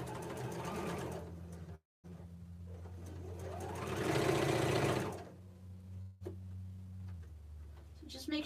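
Domestic sewing machine stitching pinless fabric pieces for a small Valentine's heart, a steady close whirring run with a brief pause near two seconds, then a louder surge, a stop and a restart.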